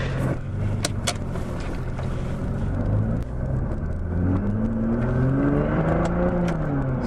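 Nissan GT-R set to R mode while driving: a steady, close engine rumble and road noise inside the cabin, with a rising tone toward the end as it accelerates, and no talking.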